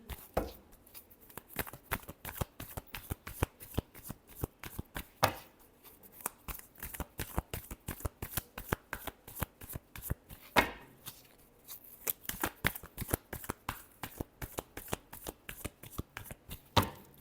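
Tarot cards are shuffled in quick, crisp riffles and slaps, close and rhythmic, in two long runs split by a short pause.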